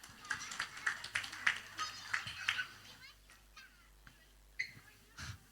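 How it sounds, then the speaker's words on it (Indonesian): A church congregation claps during a Sunday service, a loose patter of hands in bursts of quick taps that trail off into scattered claps, fairly faint in a reverberant hall, with brief voices and a child's noises mixed in. "Kasih tepuk tangan."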